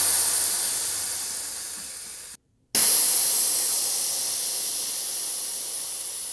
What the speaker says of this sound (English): We'll start by removing all the air from the tires.